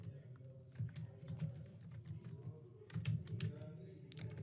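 Typing on a computer keyboard while setting up a Jotform and DocuSign workflow, a run of close clicky keystrokes in quick bursts with short pauses, over a low steady hum.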